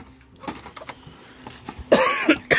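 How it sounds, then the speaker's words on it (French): One person coughs in a quick burst of two or three harsh coughs near the end, close and fairly loud, after a stretch of quiet handling noises. "Désolé de tousser."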